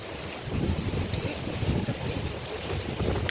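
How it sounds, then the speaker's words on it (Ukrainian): Strong gusty wind buffets the microphone with a constant low rumble and roar, loud and close, no voices. "Вітер дуже сильний."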